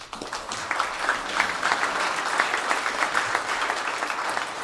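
A crowd at a graduation ceremony applauds steadily, dense clapping that holds at an even, fairly loud level throughout with no voices.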